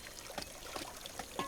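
A child splashes and plays with water, producing faint, soft pouring and trickling sounds with small irregular splashes at low volume.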